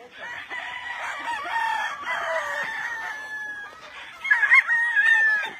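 Several roosters, including Kelso gamecocks, crow in drawn-out calls mixed with clucking on a farm, with a louder crow near the end.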